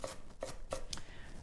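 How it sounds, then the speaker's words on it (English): Knife dicing an onion on a board, heard as three or four crisp, evenly spaced chops close by with nothing else in between. "I'm just going to dice up the onion and pop it into the pan with the oil."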